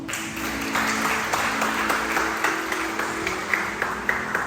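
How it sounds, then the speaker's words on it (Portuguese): A congregation applauds during a Sunday worship service in a church, with dense, continuous clapping forming a bright, even wash throughout, with a steady tonal hum beneath and no speech over it. "Vamos receber o obreiro para a salva de palmas."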